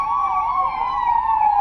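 New 108 ambulances at a flag-off event in Nellore district sound their sirens in a loud, steady wailing tone that rises and falls continuously throughout, with no voices present.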